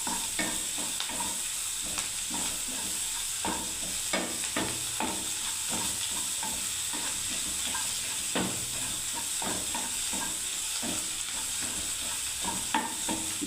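Poppy seeds sizzle in a pan for Bengali piyaji posto, steadily hissing while a spatula scrapes and clicks in a busy, irregular rhythm throughout, close and unaccompanied by speech.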